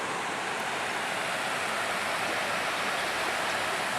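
The West Alligator River in Kakadu, Northern Territory, rushes steadily in a dense, even broadband wash, constant and close with no pauses and no voices.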